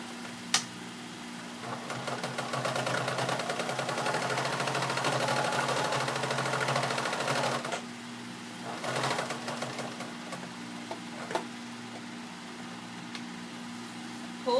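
A sewing machine runs steadily for several seconds, stitching down a folded raw edge of old denim, then stops, leaving a low hum and a few light clicks.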